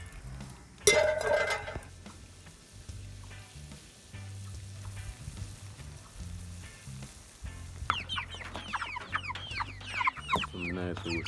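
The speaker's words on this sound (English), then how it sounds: "some nice rooster." A rooster clucks and calls near the end, loud and close outdoors at an open-fire cooking site, after a sharp clatter early on and low background noise.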